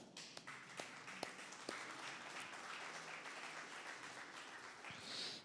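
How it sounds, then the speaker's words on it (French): An audience applauds a guest from the CEA at an event in Marseille, with steady dense clapping across the whole stretch and a few sharper individual claps standing out near the start. "Merci de l'applaudir."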